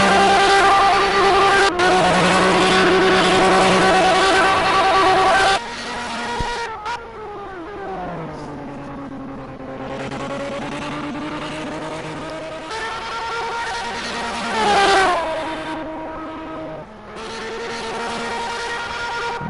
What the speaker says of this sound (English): Obviously, extremely loud these cars as GT Jamie Stig bounces over the curb there.